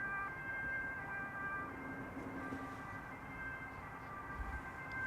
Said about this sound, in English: I think that's an ambulance.